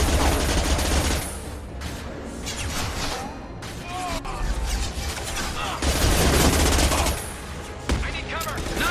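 Sustained gunfire in a Mass Effect 2 firefight, dense bursts of rapid shots and booms rolling on and off loudly throughout, with voices speaking over the combat.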